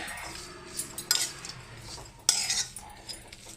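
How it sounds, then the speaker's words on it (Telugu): Tamarind is dry-roasted in a pan on low heat while a metal spoon stirs and scrapes it, giving soft scraping and occasional sharp clinks against the pan. "చింతపండు పొడి పొడిగా చేసుకోవాలి సిమ్లో పెట్టుకొని వేయించుకోవాలి"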